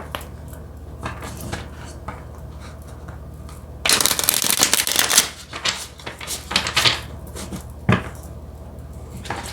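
Tarot cards are shuffled and riffled by hand in close, crisp flurries, with a dense burst in the middle and scattered softer taps and slides around it.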